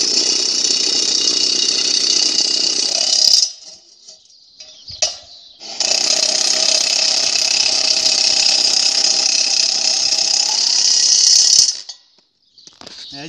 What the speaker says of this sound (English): Grab the impact gun.